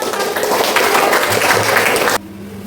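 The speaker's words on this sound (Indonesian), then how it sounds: "Tepuk tangan untuk kelompok." A junior high school class in Tanah Bumbu applauds a student group, a brisk, even wash of clapping from the room that stops abruptly, leaving quiet room tone.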